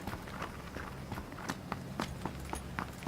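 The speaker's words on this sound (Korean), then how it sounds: "나 친구인 척 발소리 위장" Footsteps in the battle royale game PUBG Battlegrounds, a quiet, steady run of soft thumping steps at an even pace over a low background hiss.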